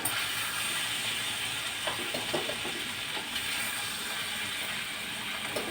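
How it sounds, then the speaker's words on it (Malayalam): Vegetables sauté in hot oil in a home kitchen, giving a steady, dense sizzling hiss that carries on unbroken, with faint clinks and stirring scrapes underneath. "എണ്ണയ്ക്കകത്ത് നന്നായിട്ട് വഴറ്റി എടുക്കണം"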